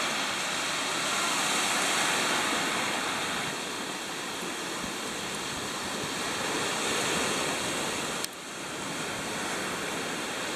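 Ocean waves at a beach in Rincon, Puerto Rico, a steady loud wash of surf with no clear breaks, one brief click near the end.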